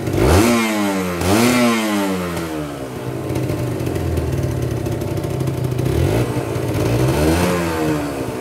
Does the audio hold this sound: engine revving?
yes